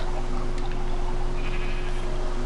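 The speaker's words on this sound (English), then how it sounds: "There's a brown sheep and a black sheep." A sheep bleats in a video game, a short cry set against a steady, loud droning game ambience with no talk.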